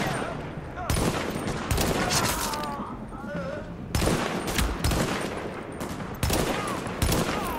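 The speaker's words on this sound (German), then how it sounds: "du wirst da beschossen" Loud, repeated bursts of automatic gunfire from The Division on Xbox One break out in several volleys, with game voices heard between and under the shots.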